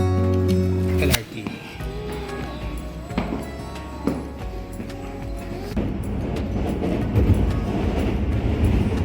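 A light rail train in Tokyo rolls past with a sudden loud rush, then a sustained rumbling clatter that builds toward the end, with voices talking in the background.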